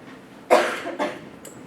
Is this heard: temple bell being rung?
no